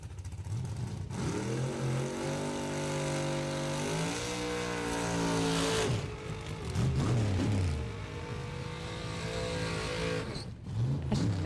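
Drag racing cars roar down the strip at Kil-Kare Dragway, a loud sustained engine drone with rising and falling pitch as they accelerate and pass, a brief dip midway before another car surges by.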